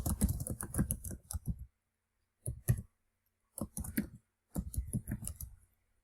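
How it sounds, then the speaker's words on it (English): Computer keyboard arrow keys are pressed while navigating a table in Word, giving close, crisp clicks in short rapid clusters separated by brief pauses. "I'm going to use my left, right, up, and down arrow keys to move through the table"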